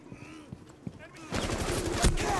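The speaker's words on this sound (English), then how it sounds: "Oh, I'm getting shot to shit!" Gunfire hitting the player in the realistic shooter game Fortress during a hostage mission, starting with scattered faint shots and thuds, then a burst of rapid, loud automatic fire close by.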